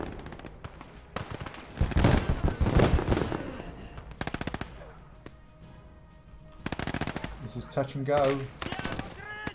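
In the World War II game Close Combat, flak guns fire in rapid bursts of sharp repeated shots among other battle noise, loud and dense, while a player talks over the action.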